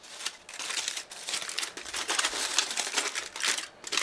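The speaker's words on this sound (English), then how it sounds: "You want to go ahead and unwrap them" Wrapping is peeled away from freshly baked stromboli filled with melting mozzarella, giving close, continuous crinkling and rustling with brief dips throughout.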